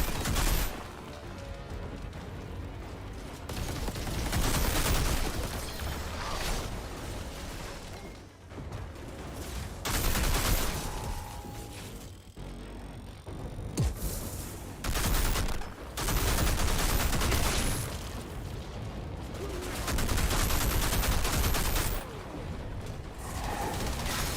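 Sustained bursts of loud, close gunfire from the sci-fi shooter Outriders, played as a Technomancer, rattling in dense volleys with brief pauses and a clicking mechanical edge between bursts, no speech.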